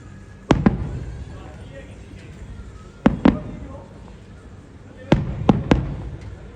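Wedding fireworks in Dubai go off in sharp, loud booms, six bangs in three clusters of one, two and three, each followed by a short rumble, with people talking faintly underneath.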